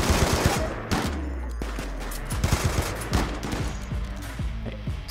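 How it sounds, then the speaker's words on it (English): Turrets fire continuously in the Rimworld video game, dense rapid bursts of gunfire stacking into a loud, unbroken fusillade throughout with no talking. "Stop firing turrets."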